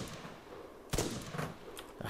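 Gunfire in the video game Arma 3 Altis Life: a sharp shot near the one-second mark, followed by a few fainter, scattered reports over a low ambient rumble.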